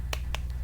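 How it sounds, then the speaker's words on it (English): Two or three quick, crisp hand claps, close and fairly loud, over a steady low hum of a video game playing in the background. "Can I get a clap?"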